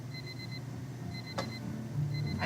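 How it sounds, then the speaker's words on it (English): An alarm clock gives a repeated electronic beep in short bursts with gaps between them. A soft ambient bed runs underneath and there is no speech. "I woke up to my alarm beeping"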